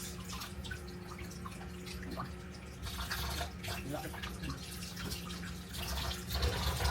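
A kitchen tap runs weakly in a home kitchen during tilapia frying, giving a thin, continuous trickle with small drips while a voice talks briefly over it.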